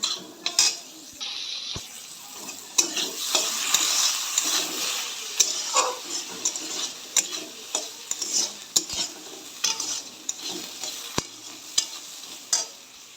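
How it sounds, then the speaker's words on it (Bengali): Ingredients fry in a pan before rice and lentils are added, with a steady sizzle and frequent metallic scrapes and clinks of a stirring utensil, sounding close. "এটা হালকা আমি একটু ভেজে নেব।"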